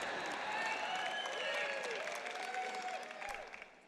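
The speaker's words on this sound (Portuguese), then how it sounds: "Cara, aquele pessoal ali está aplaudindo mais do que vocês." A large audience applauds steadily as a dense, sustained wash of clapping, with some voices and cheers rising over it before it begins to thin toward the end.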